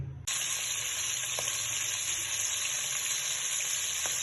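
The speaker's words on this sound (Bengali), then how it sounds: "এই তেলের মধ্যে আমি এখন মাছের মাথাগুলো ভেজে নিব" Fish heads rubbed with turmeric, chili powder and salt fry in hot oil, a loud, steady broadband sizzle that starts abruptly and holds evenly, with a couple of faint clicks underneath.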